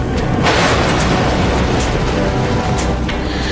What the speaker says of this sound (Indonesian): pesawat marinir ini pun langsung jatuh menghantam landasan dan meledak seketika.